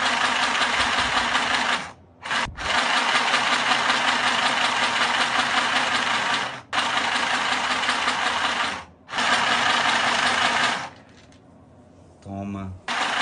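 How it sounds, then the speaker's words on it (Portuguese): A coverstitch sewing machine runs in long, loud bursts while stitching a fabric cuff, stopping briefly between runs, with a short voice near the end. "Sabe o que que essa máquina fala para as outras máquinas? É galoneira, né?"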